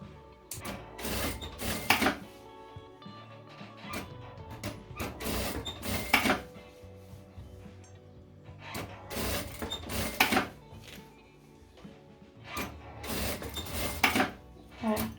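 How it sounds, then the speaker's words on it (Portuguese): A sewing machine stitches and backstitches fabric lining in repeated close, mechanical bursts of rapid clatter. Quieter pauses and handling noises fall between the runs. "Só um retrocesso para firmar bem aqui, ó, no comecinho, para que quando a gente cortar, ele não se abra"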